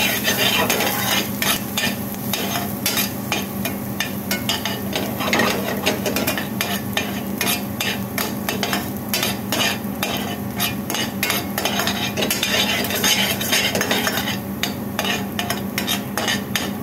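Chopped onions fry in a pan with a cooking aloo jeera base, giving a loud, continuous sizzle with constant rapid scraping and clinking of a spoon stirring close by, and no talking.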